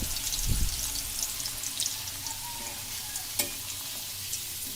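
Potato pieces coated in salt and turmeric fry in a pan with a steady, close sizzle, broken by an occasional spatula knock and scrape as they are turned.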